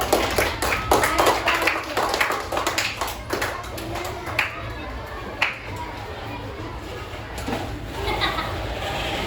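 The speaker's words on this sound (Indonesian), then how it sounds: "Give applause untuk kelompok nomor 10" A classroom audience claps for a presentation group in applause, with scattered taps and handclaps over a steady room hum, some voices chattering underneath, the clapping thinning out after a few seconds.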